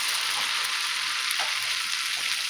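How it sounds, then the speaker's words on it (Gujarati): Ghevar batter poured in small amounts into hot ghee over a full flame, giving a steady, dense frying sizzle with bursts of bubbling throughout, close and loud, with no talking. "હવે એમાં થોડું થોડું બેટર લેતું જવાનું અને વચ્ચે એડ કરવાનું."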